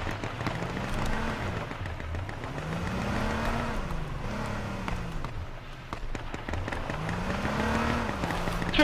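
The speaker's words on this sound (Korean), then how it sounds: "차 소리 어디야?" A car engine drives continuously in the battle-royale game H1Z1 (King of the Kill), its revs rising and falling in repeated sweeping swells as it accelerates and shifts, loud and close throughout.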